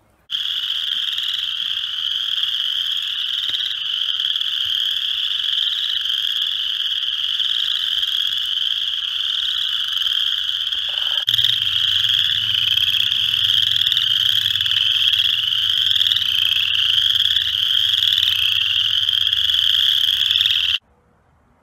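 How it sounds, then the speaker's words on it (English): A group of chorus frogs sings in a park, a loud, continuous chorus of high trilling calls near the microphone, with a low background rumble joining partway through and the sound cutting off abruptly at the end. "It's when the chorus frogs start singing."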